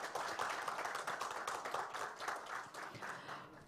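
An audience claps at the opening of an academic forum on the Korean peninsula, a dense, steady round of applause that fades gradually, with no voices.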